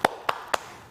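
Children clap a spirit clap rhythm in a classroom, three crisp, evenly spaced claps ringing out close by with a short decay after each.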